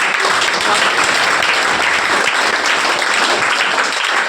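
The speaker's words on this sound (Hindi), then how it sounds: "एक बार जोरदार ताली।" A hall full of students and guests at a coaching-class ceremony for toppers breaks into vigorous applause, a thick, continuous wash of clapping at full volume with no speech heard.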